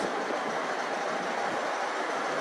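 A Voyager train on the Aberdeen to Penzance service gives off a steady, loud rumble and hiss with no clear breaks.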